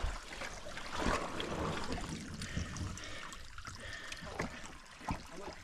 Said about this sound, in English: that's a hell of a lot of water coming out of there